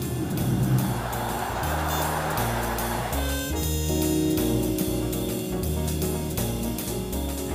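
A Mercedes-Benz S400 Hybrid car accelerates on the road. The engine climbs through several rising gear steps, loud and close, with tire and road noise underneath.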